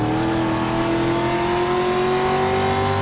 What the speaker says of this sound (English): just pounding that throttle to the floor, just about hitting the rev limiter chip